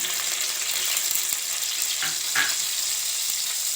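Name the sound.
garlic frying in hot oil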